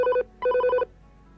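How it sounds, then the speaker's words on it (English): A telephone bell rings in two clear electronic trills separated by a short gap, loud and close, then stops, leaving quiet room tone. "I hate it when the phone rings."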